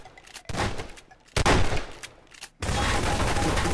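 Rapid gunfire bursts from weapons in the video game Garry's Mod Prop Hunt, loud and close, coming in three dense volleys separated by brief gaps, with no talking.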